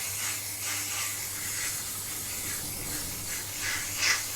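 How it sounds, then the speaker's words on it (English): A steady hiss of shaving foam spraying from an aerosol can close up onto a lid, continuous for several seconds, with a low background hum. "So now I'm just going to spray this on my lid."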